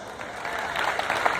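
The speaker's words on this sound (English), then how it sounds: "Give yourselves a round of applause." A brief swell of audience clapping at an outdoor Fourth of July symphony concert, rising from a soft start into scattered, closer claps over a crowd murmur.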